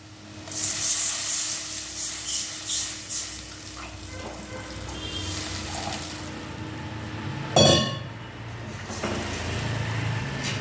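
Water poured into a pan of frying onions for a fish curry, giving a sudden loud hiss and sizzle that then settles into steady bubbling, after a long stretch of quieter frying and scraping.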